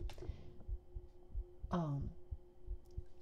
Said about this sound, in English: for my heartbeats, to get the extra clear sound, I put the microphone like straight against the skin on my chest